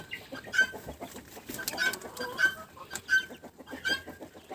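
A Muscovy duck sits with three broods of ducklings of different ages on hay, giving a close, busy chorus of repeated high peeps and soft clucking calls that overlap throughout.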